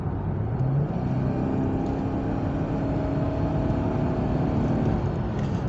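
Steady low engine drone from inside an older Chevrolet Camaro V6 accelerating on the road, a constant droning hum with a faint rising tone and road noise, no talking.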